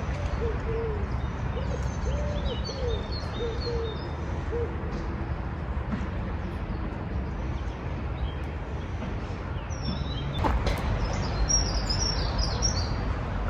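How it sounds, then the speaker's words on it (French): Birds call among blossoming spring trees, with repeated short hooting and cooing notes plus faint high chirps scattered over a steady outdoor hiss, moderately distant. "vous entendez les oiseaux?"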